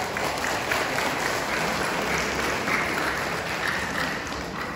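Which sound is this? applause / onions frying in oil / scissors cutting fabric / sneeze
applause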